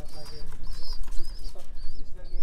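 Nine second-clutch racing pigeon squabs coo repeatedly up close, their soft, wavering calls coming in short bursts over a low rumbling background.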